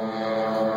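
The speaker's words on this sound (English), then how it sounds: "you can hear the 4 engines" The four piston engines of a Boeing B-29 bomber throttling back at an airshow, a steady, droning multi-engine hum with strong tonal layers, loud and continuous through the brief stretch.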